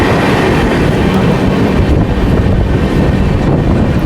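Neelanchal Express pulling into Lucknow, a loud, steady rumble of rolling wagons and rail noise mixed with wind buffeting the microphone, continuous throughout.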